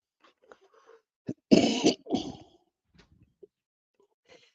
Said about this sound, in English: Sorry about coughing in your ears.